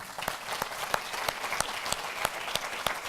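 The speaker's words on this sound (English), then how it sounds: "I'd just like to give a round of applause for everything that they do." A crowd at a business growth celebration applauds, a steady wash of clapping with a few louder individual claps standing out in a loose rhythm, moderately distant and fairly quiet overall.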